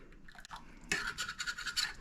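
A whisk scrapes briskly through bread pudding mixture in a bowl, a short burst of rapid, rhythmic swishing and scratching strokes heard up close.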